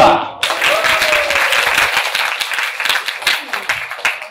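Audience at a Korean church applauds after a correct answer, a dense burst of clapping that starts abruptly and carries on steadily for several seconds with a few voices mixed in.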